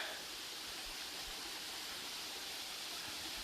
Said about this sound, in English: You can hear some water. There's a little stream that we're walking alongside.